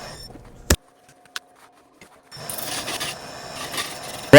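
A woodturning tool cuts into a resin and wood globe spinning on a lathe, a rough continuous scraping hiss that starts after a few sharp knocks and a quiet pause.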